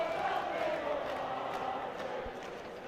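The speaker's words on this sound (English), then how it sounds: "Excellent crowd" Steady, dense crowd murmur fills the stands at a Scottish Cup Final rugby match, a continuous broad roar with faint calls rising and falling and no clear cheer peaks.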